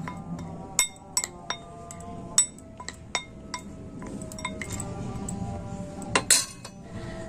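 Dry ingredients for a crispy raw-potato snack batter being stirred together in a bowl, with repeated sharp clinks of a utensil striking the container over a low scraping rustle, close and fairly loud, with no talk.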